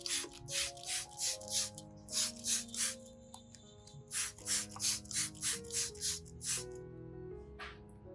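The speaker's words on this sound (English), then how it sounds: "Misting with this solution not only cleans dust, but also delivers valuable trace nutrients directly through the leaf epidermis." A handheld spray bottle mists onion peel solution onto Anthurium leaves in a rapid series of short, sharp spritzes, about a dozen in quick rhythm with a brief pause, close and loud over a faint musical background.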